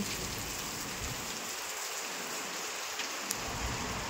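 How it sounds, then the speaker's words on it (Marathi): Heavy rain pours steadily in a village, a dense, even hiss of falling water that stays loud and constant throughout, with no speech. "पाऊस बघा गाईस किती पडतोय."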